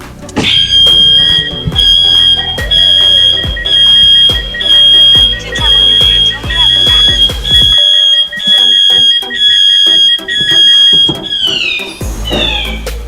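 Two electronic reverse buzzers on a Tata Daewoo Prima truck sound together, a steady high-pitched tone pulsing in a repeating rhythm, slightly out of step with each other, loud and close.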